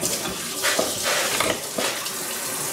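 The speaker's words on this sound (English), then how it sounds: "then you want to run some hot water over it" Hot tap water runs steadily into a kitchen sink over cooked meat during bulk food prep, a close, continuous splashing gush with no voices.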